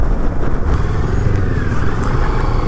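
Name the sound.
Moto Morini X-Cape 650 motorcycle riding at speed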